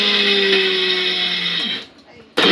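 A kitchen mixer grinder whirs loudly at a steady high pitch while grinding sugar with cardamom pods into powder, then winds down and cuts off before a short burst resumes near the end.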